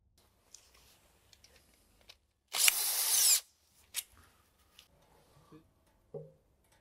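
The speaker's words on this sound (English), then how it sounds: "we now unscrew the oil pan from the transmission" Power tool spinning out the bolts of a transmission oil pan: one loud burst of whirring, just under a second, then brief clicks and metallic taps at close range amid otherwise quiet workshop sounds.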